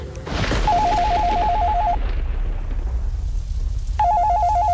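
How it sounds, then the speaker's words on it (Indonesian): An electronic telephone rings in two warbling bursts separated by a pause, loud over a low background rumble. "telepon itu berdering kembali"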